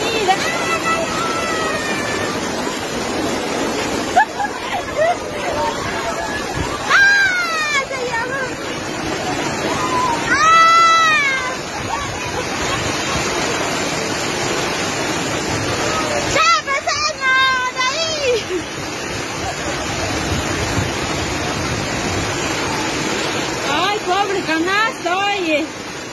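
Floodwater rushes loudly through a street in Ancash, Peru during heavy rains, sweeping away merchandise and bundles; a steady broad roar of water runs throughout, with excited voices shouting over it.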